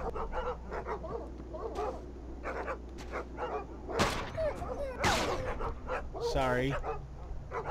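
Dogs in the trenches of the video game Iron Storm bark, yip and whimper in short bursts, while someone talks over them.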